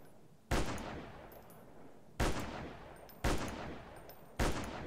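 Four sniper rifle shots in the video game Attack Of Mutants, each a sharp, loud report followed by a decaying tail, spaced unevenly about a second apart with no talk.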